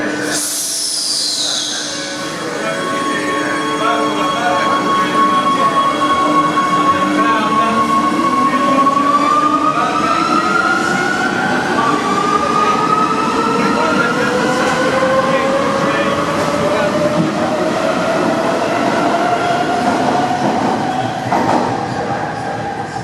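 Rome Metro Line A train in motion: a steady rumbling roar with rising and falling whine tones as the carriage accelerates, continuous and fairly loud throughout.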